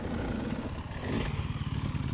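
A motorbike is ridden at a rural construction site, its mid-pitched engine chugging steadily at moderate distance with a slight rise in revs partway through, no talk.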